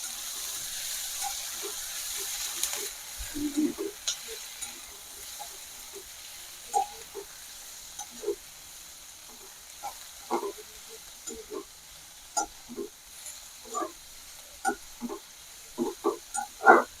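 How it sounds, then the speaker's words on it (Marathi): Cabbage manchurian ingredients such as cilantro frying in a pan: a soft steady sizzle with scattered small pops and crackles, growing busier toward the end, with no talking. "हे सर्व जिन्नस आपण एकत्र घालून छान भाजून घेऊ"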